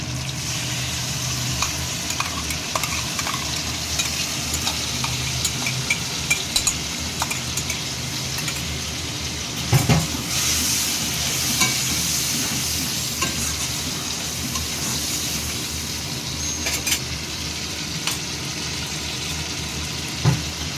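Spices for prawn biryani sizzle steadily in hot oil for about twenty seconds while being stirred, with a spoon scraping and clinking against the pan now and then.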